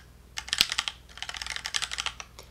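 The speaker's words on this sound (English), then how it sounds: "So we're going to type in inventory.beamhosting.net." Quick bursts of keystrokes on a computer keyboard while a domain name is entered during a web app setup, a brief pause, then a second flurry of taps, close and alone.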